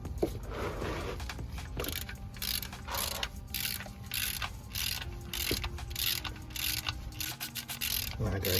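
A ratchet tightens the oil drain plug on a 2014 Ford Focus, giving repeated clicking pawl strokes close up over a steady mechanical background hum.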